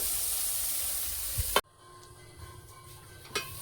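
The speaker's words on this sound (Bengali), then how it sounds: "আমি মশলাটা একটু কষায় নিই ডালটা" Spice masala for chana dal sautéing in a pan, a loud steady sizzle and hiss that cuts off abruptly partway through, followed by quieter kitchen noises and a faint clink.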